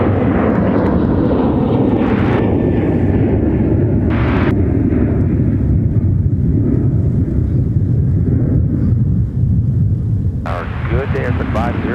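A Delta airliner takes off at MSP airport, a loud, sustained roar that fills the whole stretch, with radio chatter breaking in briefly several times.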